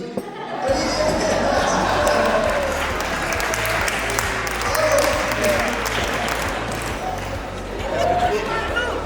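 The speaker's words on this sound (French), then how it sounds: "Le monsieur qui vient de se lever, on applaudit." Wedding guests applaud a man who has just stood up, a sustained crowd clapping that continues throughout with voices and chatter mixed underneath.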